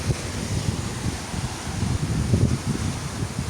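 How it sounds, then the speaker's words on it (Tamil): Strong wind gusts through coconut palms, with leaves rustling and wind buffeting the microphone in a loud, continuous roar. "இதில் காற்று சரியான காற்றா கிடக்கு"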